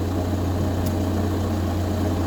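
A VW Golf Plus 1.9 TDI 90 bhp diesel with a fuel filter problem idles just after starting, a steady low rumble held evenly throughout with no revving and no talk.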